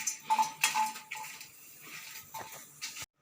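Garlic, ginger and dried red chillies dry roasting in a pan, with a few sharp metallic clinks and scrapes of a utensil against the pan, then softer stirring noises near and close.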